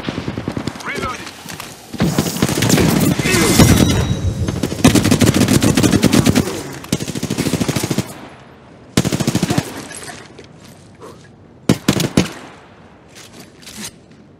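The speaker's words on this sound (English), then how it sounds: "I'm taking fire. Opening fire." Rapid automatic gunfire in the Apex Legends video game rattles in loud sustained bursts, then trails off into scattered shots and clicks, close and dominant, with game voice lines mixed in.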